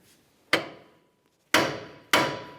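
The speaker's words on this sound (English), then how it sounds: "We'll use a little bit of vibration with a hammer to break it free." Three sharp, ringing hammer blows strike a 2005-2010 Dodge Dakota steering knuckle to shake the ball joint free. The first lands alone, and two more follow about half a second apart, each metallic clang decaying quickly.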